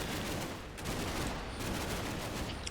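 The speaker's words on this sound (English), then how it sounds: "there's an M240 team down there who's just shooting at them" M240 machine gun firing in the Combat Mission game Blood on the Snow, a dense, continuous rattle of bursts mixed with battle noise, steady and fairly distant.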